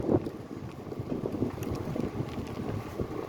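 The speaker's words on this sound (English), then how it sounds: "I'm bicycling right now into the wind, so I'm recording all this noise." Wind rushes against a microphone while someone rides a bicycle along a beach, a steady, low, buffeting roar with soft thumps and no speech.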